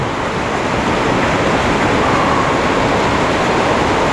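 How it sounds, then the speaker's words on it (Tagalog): A dense, steady roar of heavy typhoon rain pours down continuously on a farm, loud and close, with no pauses. "parang binubuso talaga yung lakas ng tubig ng ulan, no?"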